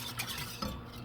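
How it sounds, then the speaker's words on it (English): A spoon stirs cornstarch into a pot on medium-low heat for a butterscotch pie filling, giving a brief, faint scraping and swishing with a soft clink. "You can stir that in."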